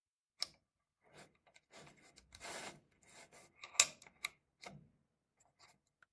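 Sharpening a chainsaw chain on a GÜDE GKS 108 bench sharpener, giving a few short grinding rasps and clicks separated by pauses, close by with no talk.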